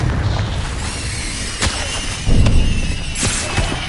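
A Confringo blasting spell in Hogwarts Legacy, a loud booming explosion with a couple of sharp bursts over rumbling combat noise.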